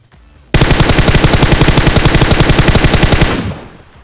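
Rapid automatic gunfire in PUBG Mobile bursts in loudly after a brief quiet moment, a sustained rattling stream of shots for about three seconds before tapering off.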